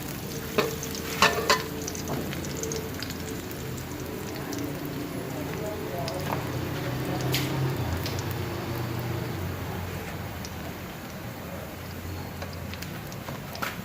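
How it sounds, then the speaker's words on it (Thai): Coarsely chopped garlic fries in hot oil in a pan, giving a steady close sizzle that lasts throughout, with a few light clinks of a utensil stirring near the start. "เอา น้ำมันใส่กระทะ ร้อน แล้วก็ ตาม ด้วยกระเทียม สับหยาบนะครับ"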